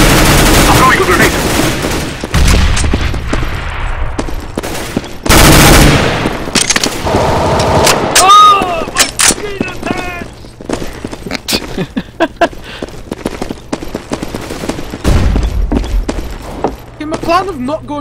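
Grenade blasts and rapid gunfire in the Counter-Strike GO video game: heavy booming explosions punctuate long stretches of close, crackling automatic fire, with voices talking over parts of the action.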